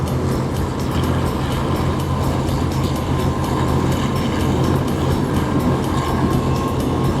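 A loud, continuous Thai passenger train rumble with a rough, pulsing clatter running steadily throughout, close and unbroken, the train running roughly.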